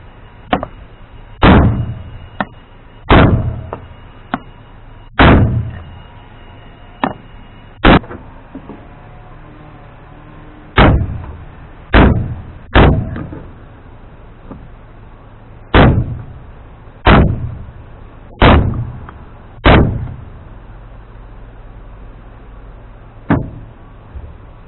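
Sledgehammer blows on a wood block driving in a rear full-floating D60 hub seal, about fifteen sharp loud thuds in uneven groups with short pauses between them.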